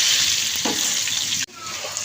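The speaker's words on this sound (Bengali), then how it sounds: "এখন আমি আলুটা লাল করে ভেজে নেব।" Potatoes frying in hot oil, a bright continuous sizzle with a brief soft stir, cut by a sudden short break before the hiss resumes.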